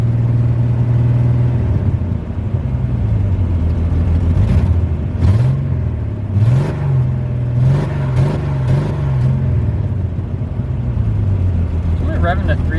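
Car engine revving up to about 3,000 RPM while randomly misfiring, a loud rising and falling whine with uneven surges, heard close up under intermittent talking.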